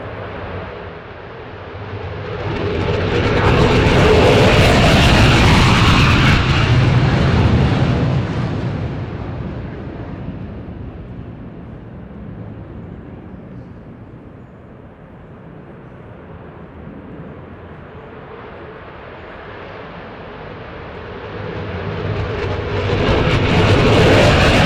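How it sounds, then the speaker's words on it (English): Aircraft passing overhead during an outdoor aviation graduation ceremony, a loud roar that swells and fades, then begins building again as another approaches. "Cue the plane. Here we go. We'll wait for them to go by."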